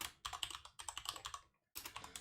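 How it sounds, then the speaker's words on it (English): Fingers type quickly on a computer keyboard in bursty runs of close, crisp clicks, with one brief pause before the keystrokes resume. "I'm typing the Discord in the chat so people can join the Discord if they like"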